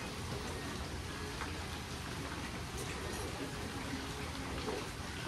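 Steady monsoon rain falls outside at dawn, a dense, even hiss of drops lasting throughout, moderately distant and unbroken by any voice.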